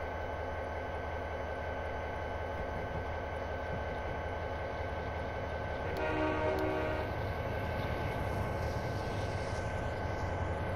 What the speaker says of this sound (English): there's a train coming up, as you can see, 1740. And this is the S44AC,